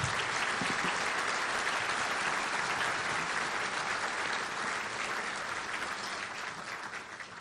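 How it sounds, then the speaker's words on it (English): Sustained audience applause at a law enforcement appreciation luncheon, dense steady clapping from a seated crowd filling the room for about seven seconds and tapering slightly at the end. "Please give them a big round of applause."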